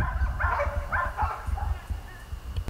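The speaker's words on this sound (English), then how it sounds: "The dogs are going crazy." Several dogs bark excitedly in short bursts, moderately close, over a rumbling outdoor background near a smoker.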